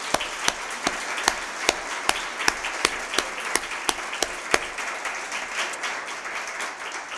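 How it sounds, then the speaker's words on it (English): A round of applause from the audience at a school board public forum, a steady wash of many hands clapping with sharper individual claps standing out, fairly distant and continuing for several seconds. "I wanted to have everybody just give you guys a round of applause for such a great discussion this evening"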